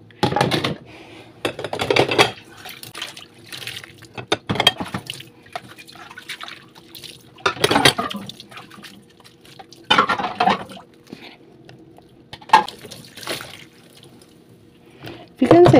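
Tap water runs in bursts over dishes being rinsed at a kitchen sink, splashing loudly in several separate spurts with quiet pauses between, while someone talks in between.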